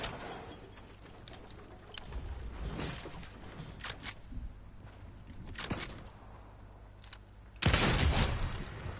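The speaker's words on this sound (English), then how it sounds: "this shotgun's broken" Quiet shots and clicks of a Fortnite shotgun crack at scattered intervals against low background noise, and one much louder blast lands near the end.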